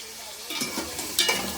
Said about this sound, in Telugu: ఉల్లిపాయ పచ్చిమిర్చి అయితే చారు కోసం వేపుకుంటున్నాం కదండి